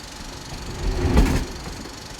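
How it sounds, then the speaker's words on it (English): An Amtrak Silver Service passenger train rolls southbound north of Waldo, Florida, heard from the observation car with a low rumble and faint wheel noise, swelling briefly as something passes close, then settling back to a steady hum. "we see views taken from the observation car as the train travels southbound"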